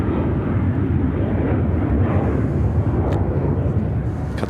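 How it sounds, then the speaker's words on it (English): An American Airlines Boeing 737-800 takes off from Chicago O'Hare, bound for Boston, with a loud, steady low jet roar and broadband rumble that holds throughout, without speech. "American Airlines 299 taking off to Boston on the"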